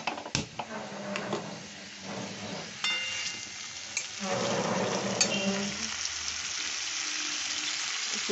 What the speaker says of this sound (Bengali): ফুলকপিটা বেশ একটু ভেজে তুলে যাচ্ছে